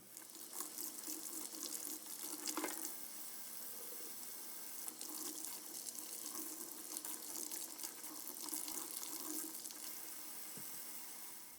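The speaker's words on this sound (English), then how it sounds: "I'm going to rinse off all of the vegetables I need, which would be the lime, jalapeno, tomatoes, and cilantro all need to be rinsed off" Water runs steadily from a kitchen tap into a sink while lime, jalapeno, tomatoes and cilantro are rinsed, the flow splashing and shifting as the produce moves under it, fairly quiet and with no talking.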